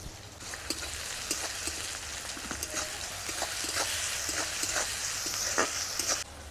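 Chopped onion fries in oil with a steady close sizzle, broken by frequent clicks and scrapes of a spatula stirring the pan; no voices.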